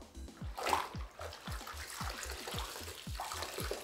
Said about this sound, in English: Let's rinse. Look at the dust and the debris coming off.